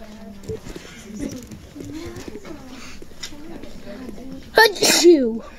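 A single sharp sneeze bursts out near the end, close and loud, after a stretch of casual talking voices in a room.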